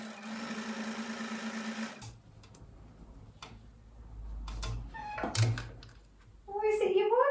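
A sewing machine stitches a zigzag line, loud and steady for a couple of seconds, then stops; quieter clicks, a cat's meow and a brief burst of stitching follow.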